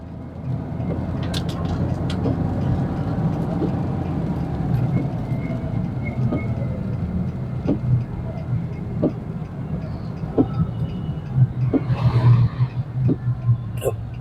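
A Nissan Navara D40 pickup with a weak turbo, neglected engine oil and power loss around 2,000 rpm drones steadily from inside the cab, a continuous low rumble with faint clicks and a slight swell near the end.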